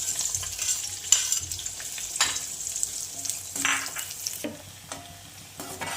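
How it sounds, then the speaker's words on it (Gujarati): Sliced onions frying in hot oil in a pan, a steady soft sizzle with occasional stirring scrapes and light utensil clinks, fairly quiet with no voices. "હવે એ જ ઓઇલમાં આપણે ડુંગળી ફ્રાય કરી લઈશું."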